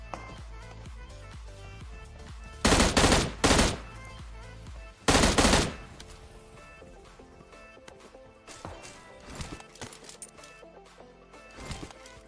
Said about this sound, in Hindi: पीछे एक बंदा भी था जो कि फायरिंग करने की कोशिश करता है, लेकिन बच जाता हूँ मैं